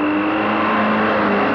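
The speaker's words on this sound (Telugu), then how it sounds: "అదిగో బావ ట్రక్ లో వస్తున్నారు" Truck engine droning steadily and fairly close, a constant low motor hum with a faint tonal whine, no voices.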